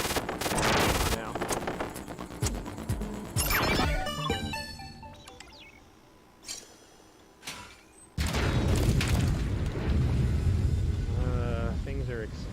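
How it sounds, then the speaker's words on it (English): Explosions and gunfire-like blasts from the video game Prey burst loudly in dense clusters, drop to a quieter stretch with a few isolated bangs, then surge back into heavy, continuous combat noise. "Things are exploding and I don't like it."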